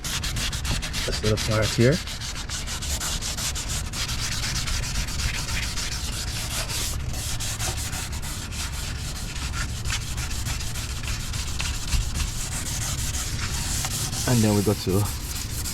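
Hand sanding rubs old clear coat off a surface in quick back-and-forth strokes, a close, continuous gritty scratching with someone briefly talking over it at the start and near the end.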